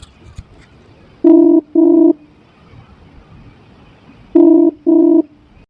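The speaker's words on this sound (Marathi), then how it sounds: "हो जाऊन राहिली ना बेल" Two pairs of steady electronic phone ringing tones on a dialed call, each pair of short beeps separated by a few seconds of quiet, loud and close.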